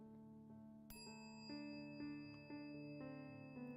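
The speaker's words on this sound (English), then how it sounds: "As you hear the bell with each subsequent pose, the bell will indicate it's time to start deepening the breath." A bright bell rings out sharply once, then a series of softer chimes follows at roughly half-second intervals, each ringing on with sustained tones, marking pose changes in a quiet restorative yoga class.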